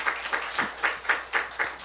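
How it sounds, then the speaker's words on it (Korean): A church congregation in a Sunday service claps in quick rhythmic bursts, about four claps a second, close and fairly loud, over a short stretch. "우리 하나님께 박수 올려드려요."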